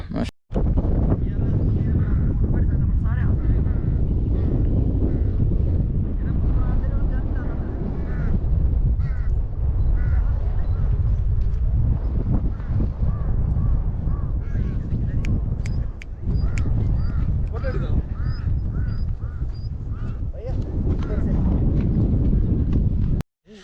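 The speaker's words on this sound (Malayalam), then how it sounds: "നല്ല ശക്തമായ കാറ്റ് വരുന്നുണ്ട്" Strong, cold wind blows hard before rain in the Himachal hills, a loud, continuous roar of gusts buffeting the microphone for the whole stretch, with a voice talking now and then.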